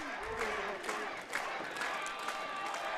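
Wrestling crowd at a Ryse Wrestling tag-team match cheering and clapping in a steady, roomy roar, with scattered shouts rising over the din and a commentator-like voice faintly mixed in.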